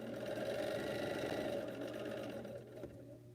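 An unoiled sewing machine runs steadily at close range with a loud, droning mechanical whir and rattle, then slows slightly and quiets near the end.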